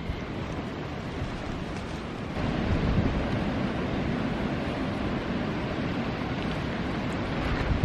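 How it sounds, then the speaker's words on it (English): Gusty wind roars across the microphone outdoors, a broad steady rush that grows stronger partway through and keeps blowing with no voices. "The way these gusts work is really interesting."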